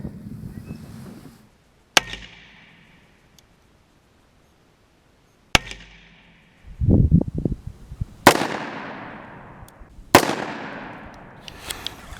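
A Bond Arms Grizzly derringer fires .410 number 7 shotshells outdoors, four sharp, loud shots spaced a few seconds apart, each with a ringing decay. A brief rumble comes between two of them.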